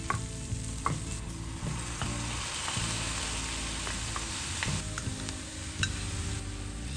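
Onions softened in olive oil are stirred in a pan with pickled cucumbers and sour cream, a steady close sizzle with repeated scraping and clinking stirs throughout.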